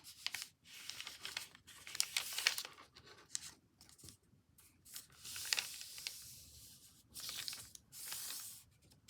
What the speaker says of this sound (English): Fold it diagonally in half.